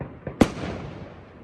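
Fireworks bursting on New Year's Eve in the Netherlands: a small pop, then one loud, sharp close blast that fades into a long, rumbling decay.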